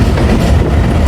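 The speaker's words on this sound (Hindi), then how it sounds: "गुजर खान अराइवल हो रहा है जी 104 डाउन सुबह खराम रेलगाड़ का" A Subak Kharam railcar train, the 104 Down, pulls into Gujar Khan station with a loud, steady rumble and a rhythmic clickety-clack of wheels over the rails, close and continuous, with no voices.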